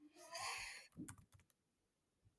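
Fingers typing on a computer keyboard while building a PowerPoint quiz: a brief run of soft quick key clicks following a breathy sound, faint and close, then quiet.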